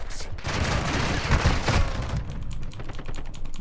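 Light machine gun fire on the Shoothouse map of a shooter video game: dense, loud, sustained bursts of automatic shots with heavy booming impacts, fading into scattered lighter pops near the end.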